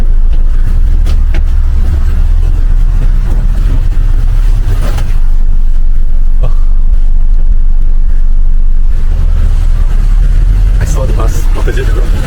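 A city bus in Brunei drives along and swings through a U-turn, its loud engine rumbling steadily up close with road noise throughout, swelling and easing as it turns.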